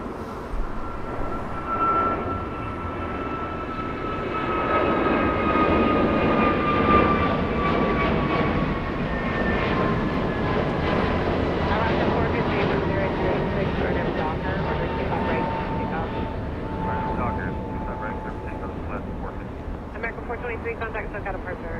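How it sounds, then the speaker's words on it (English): An Airbus A321neo jet airliner departs Los Angeles International Airport with a loud, sustained engine roar and a slowly falling whine. The roar swells and then gradually fades as the aircraft climbs away. "That's an A321 Neo, the departure that we just saw."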